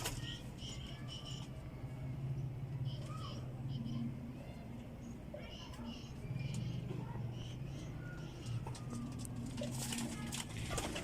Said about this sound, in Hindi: टैडी कबूतर है जनाब।